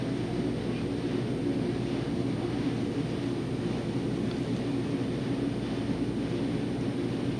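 A JetBlue jet airliner coming in to land at Boston airport, a steady broad roar holding even and constant throughout, fairly distant with no talking.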